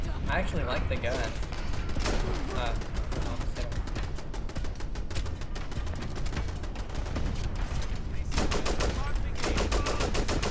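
Rapid gunfire from a gun in the video game Fallout: London, with dense bursts of shots throughout, loud and close, mixed with game action and occasional voices.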